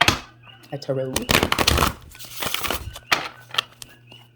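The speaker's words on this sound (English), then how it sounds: "So let me get a tarot." A tarot deck is shuffled up close in crisp riffling bursts with papery crackles, under and between bits of talk.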